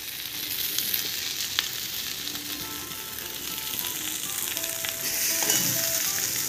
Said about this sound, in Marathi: तर आता आपल्याला ते बटाटे ह्याच्यामध्ये घालायचे आहेत.